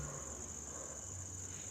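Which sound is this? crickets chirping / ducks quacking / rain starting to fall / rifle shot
crickets chirping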